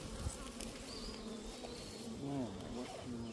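A crowded honeybee colony preparing to swarm gives off a steady, dense buzzing hum that holds throughout, with individual bees droning close by now and then.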